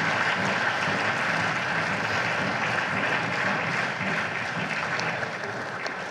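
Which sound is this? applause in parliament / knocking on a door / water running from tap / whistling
applause in parliament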